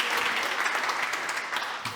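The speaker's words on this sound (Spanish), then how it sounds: "Dense un fuerte aplauso," A church congregation applauds during a sermon, a continuous wash of many hands clapping at moderate loudness throughout the short stretch, with no talk over it.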